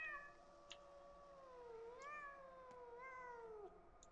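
A cat in the video game Pathologic 2 gives a long, drawn-out meow that wavers in pitch and trails into further yowling cries, clear and alone over a quiet background.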